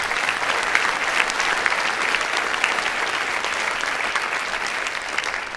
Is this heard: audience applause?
yes